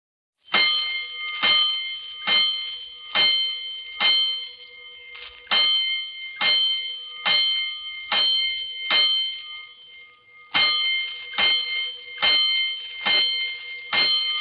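A fire alarm bell strikes in sharp metallic clangs at a steady pace for a 5-alarm call in an old radio drama, in two runs split by a short pause, loud and clear with no voices.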